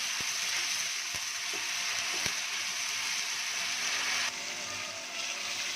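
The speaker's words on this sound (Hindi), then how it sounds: "प्याज ब्राउन करना है हमने, जब तक हम इसको भूनेंगे" Onions browning in a hot pan for a white beans curry, a dense continuous sizzle with a few light clicks from stirring, the hiss dropping slightly near the end.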